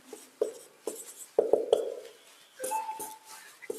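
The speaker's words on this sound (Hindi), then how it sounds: "चलिए लिखते हैं पहले सॉल्यूशन" A pen writes out a maths solution on paper in close, distinct scratchy strokes, short bursts separated by tiny pauses, with a few sharper taps as letters and symbols are formed.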